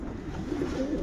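Pigeons in a loft at a racing-pigeon breeder's, giving a low, continuous burbling coo that stays steady and fairly close throughout, with no voices over it.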